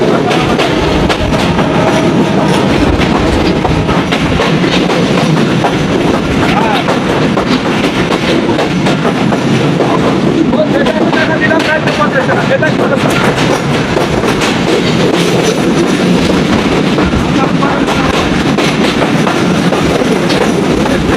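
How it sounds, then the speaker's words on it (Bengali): A Mongla commuter train runs steadily along the rails, its carriages rumbling with a continuous clickety-clack close by throughout, broad and loud with no break. "তো আমাদের ট্রেন 3 মিনিট যাত্রা বিরতি শেষ করে আবার ছেড়ে দিয়েছে তার পরবর্তী যাত্রা বিরতি স্টেশনে"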